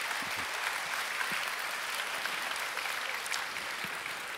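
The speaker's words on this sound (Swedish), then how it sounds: "Är det några som vill applådera det" At a Social Democrat campaign meeting in Vårgårda, Sweden, an audience gives steady, even applause, a continuous wash of many hands clapping with no talk over it.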